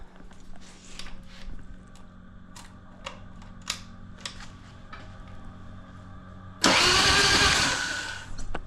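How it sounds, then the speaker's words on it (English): A stunt bike engine with a Fueling 525 cam is started. Faint clicks and a cranking whir come first, then the engine bursts into a loud, rough running roar for the last couple of seconds. "Let's start this bitch up."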